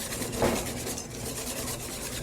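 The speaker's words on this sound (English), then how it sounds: "Going to continue to whisk until all of my cream is added." Cream being whisked into eggs for crème brûlée in a bowl, a continuous close scraping, swishing rhythm of the whisk with no talk.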